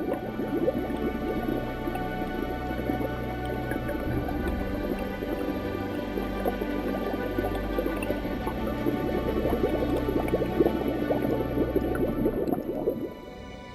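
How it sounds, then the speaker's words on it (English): Volcanic gas bubbling up through water, a steady close gurgling and squelching that keeps churning under a low rumble and fades near the end. "The volcano continues to bubble away underground, releasing foul-smelling toxic gases into the water."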